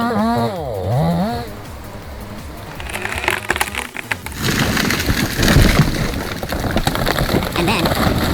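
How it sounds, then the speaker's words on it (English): A chainsaw cutting down a western red cedar, with a loud, rough, continuous roar building after a few seconds, preceded by wavering voice-like tones. "The chainsaw sounds so loud, like a monster roaring to life."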